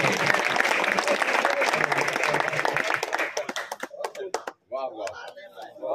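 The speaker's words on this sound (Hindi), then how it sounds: "जोरदार तालियां दोस्तों के लिए।" Audience applause at an Urdu poetry mushaira in Chinawal, a dense wash of clapping for about four seconds that thins into scattered claps, with a voice emerging at the end.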